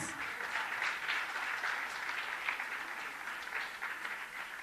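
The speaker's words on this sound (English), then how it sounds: "Good round of applause." An audience at an official World Tuberculosis Day event at a governor's residence gives a dense, even round of applause, continuous clapping that holds steady throughout without talk.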